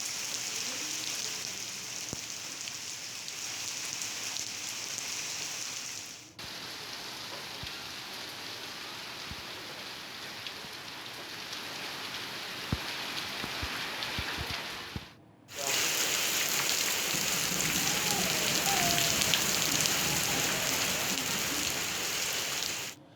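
Steady unseasonal rain falls on surfaces in Uttarakhand with a dense, continuous hiss across several cuts. It grows louder and fuller in the final stretch, and no voices are heard.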